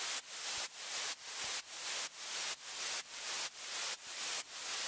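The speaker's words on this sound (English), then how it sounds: "I have this white noise. And this white noise is sidechained." White noise in a music production, sidechained so it pumps every quarter note: steady loud hiss ducking sharply and swelling back on each beat, about ten even pulses, with no other sound.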